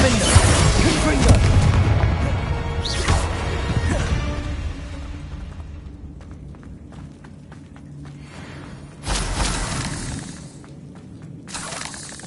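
Confringo spell blasts in Hogwarts Legacy burst as loud crackling explosions with shattering debris, a dense cluster early, then a couple more sharp blasts later over a low rumbling background.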